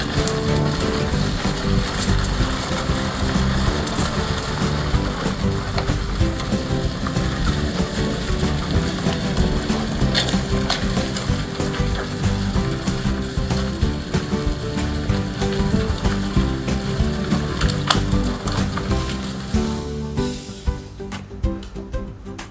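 Dense, continuous rattling and engine rumble recorded from a camera inside a vehicle bouncing over a rough, bumpy dirt road in the open high country between Pangong Lake and Hanle, steady and loud throughout with no talking.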